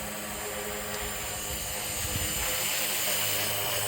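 Steady high-pitched whine of a Blade 230S Smart V2 RC helicopter's motor and rotors, flown outdoors, continuous and close, holding level throughout with no voices.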